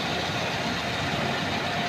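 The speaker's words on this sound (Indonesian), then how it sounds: "Untuk mesin itu suaranya juga halus ya" A 2001 Suzuki Escudo engine idles smoothly, a steady, even low rumble held close and constant with no talk over it.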